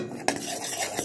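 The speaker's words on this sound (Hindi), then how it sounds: "हम अपने गर्मा गर्म ऑयल में ये सारे पेस्ट को डाल देंगे, इसको कुछ सेकेंड के लिए अच्छी तरह से फ्राई करेंगे।" Spice paste frying in hot oil for a Punjabi chicken gravy gives a steady, close sizzle, broken by a sharp clink of a spoon or utensil against the pan.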